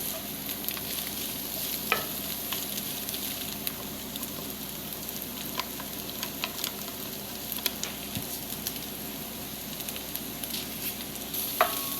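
Fried rice with egg and chicken being stirred and mixed in a pan, a steady sizzle throughout with scattered scraping clicks of the utensil, close and moderately loud.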